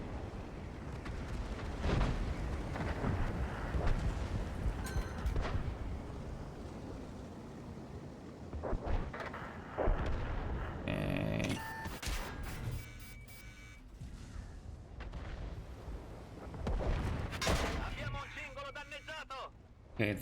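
Bomber airstrike explosions in World of Tanks Frontline, a tank game, land as heavy booms and rumbling blasts with scattered bursts. They come in several waves over a dense, noisy battle background.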